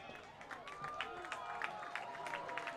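Crowd noise at a high school football game between Belleville East and Pekin, a steady roar of cheering and clapping with scattered claps standing out, with talking mixed into the din.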